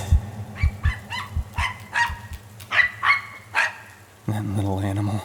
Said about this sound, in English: that small, brave dog, ran right up to the monstrosity, barking its head off with a feeble, high-pitched cry